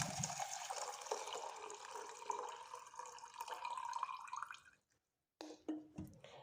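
Water poured from a cup into a henna mix, a steady close splashing pour that stops suddenly, followed by a few faint drips and small splashes.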